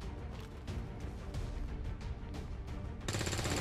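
Gunfire from the XCOM 2 War of the Chosen video game, a steady run of loud, dense shots and impacts with a heavier burst near the end, with no voices.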